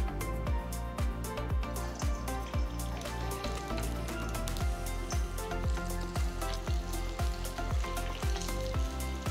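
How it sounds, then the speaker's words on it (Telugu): Small drops of punugulu batter sizzle steadily in hot oil, a continuous crackling fry heard under loud, rhythmic background music with a pounding beat. "సిజ్లింగ్ సౌండ్ రావాలి వేసిన వెంటనే"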